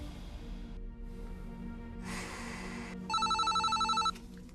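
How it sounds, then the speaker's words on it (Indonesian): A telephone bell rings in one bright, steady burst of repeated electronic trills lasting about a second, sharp and close, set against low background hum and a few faint rustles. "Namun ketika Kyoko mendapat telepon"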